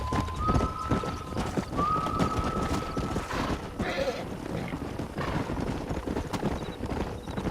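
A horse in the Red Dead Redemption video game whinnies and gallops, with rhythmic hoof clip-clop running throughout and a couple of high neighs early on, close and moderately loud.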